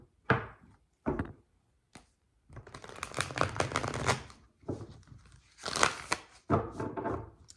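Tarot cards being shuffled by hand: a few sharp riffles and taps, then longer bursts of papery card shuffling, close and fairly quiet, with no talking.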